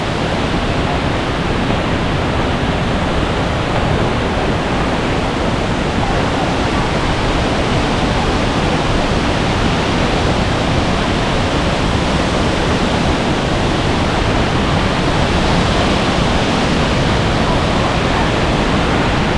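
Water at Wulai waterfall rushes as a dense, constant roar, loud and close, with no gaps and no clear voices above it.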